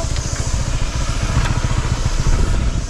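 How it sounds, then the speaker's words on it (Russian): A motorbike on a street in Phuket, sounding rough, with a loud, steady, rattling engine chug close by throughout. "Ой, байк какой-то."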